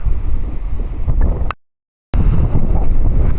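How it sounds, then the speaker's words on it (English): Strong wind buffets the microphone outdoors at night, a loud, close rumbling roar that cuts out abruptly for about half a second before resuming. "Although the wind's getting up here, so I'm hoping it's sheltered enough to not be shaking."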